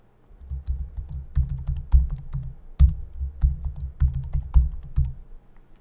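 Keys on a computer keyboard tapped in a steady series of close, clear clicks while a password is entered and confirmed, with short pauses between bursts and no talking.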